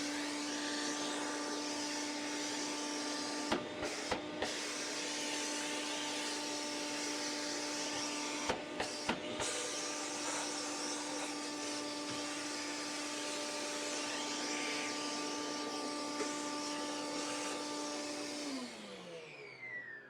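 A DeWalt DCV585B battery-powered HEPA vacuum hums steadily with a steady whine, briefly interrupted by a few sharp clicks, then winds down at the end.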